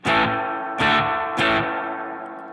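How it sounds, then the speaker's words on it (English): A guitar amp's distorted dirty channel, with reverb and delay running into the front end, rings out three loud struck chords, each leaving a washy, echoing tail that lingers and slowly fades. "your reverb is going into the front end of the amp and it's overemphasizing the reverb and delay and whatever else"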